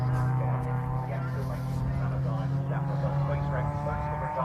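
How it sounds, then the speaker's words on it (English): A Ford Fiesta race car in junior championship free practice laps the circuit, its engine a steady droning hum with a slight rise near the end, heard under continuous commentary. "So the car's just coming around"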